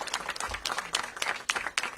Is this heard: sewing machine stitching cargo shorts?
no